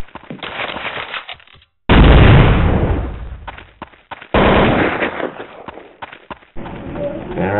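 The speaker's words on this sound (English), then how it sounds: "we're getting shot at." Counter-Strike gunfire erupts in loud, dense bursts with brief gaps of silence between them, rapid shots overlapping near and harsh, with a few fainter pops mixed in.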